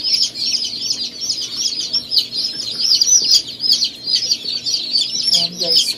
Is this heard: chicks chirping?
yes